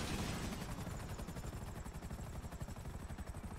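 Rapid gunfire in GTA 5, a dense fast burst of shots in a regular rattling rhythm, loud and close, continuing for the whole stretch with no talk.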